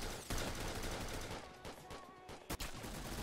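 Sniper rifle and other gunfire in the Roblox Jailbreak game, dense bursts of shots crackling in a loud, busy exchange with a sharp single crack near the end, a voice faintly present underneath.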